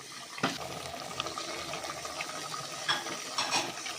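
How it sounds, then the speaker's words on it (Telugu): Goat head curry mixed with coriander powder in a pot, with wet stirring and occasional clinks of a spoon against metal, close and steady with no voices. "కొత్తిమీర ధనియాల పౌడర్ వేసుకున్న తర్వాత ఒకసారి అంతా మంచిగా కలుపుకోవాలి"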